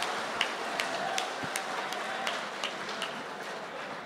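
Audience applause at an Urdu mushaira in Qatar, a steady wash of many hands clapping at moderate distance, sustained for several seconds with a few sharper individual claps standing out.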